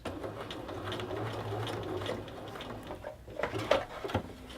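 A sewing machine basting a 5/8 seam allowance across fabric for a continuous bound placket, its steady mechanical patter running close and even, then a few quick louder stitch bursts near the end.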